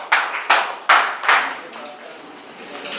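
A classroom of students clapping for a classmate's weekly test score, four quick loud bursts of applause close together, then fading to quiet murmuring.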